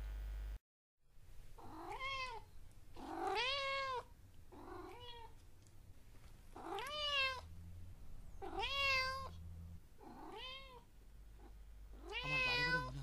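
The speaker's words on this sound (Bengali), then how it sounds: "সেই বেড়াল ডাকার শব্দ শুনতে পেলাম।" A cat meowing at night, seven or eight drawn-out wailing meows in a slow, uneven series, close and clear over a quiet low hum.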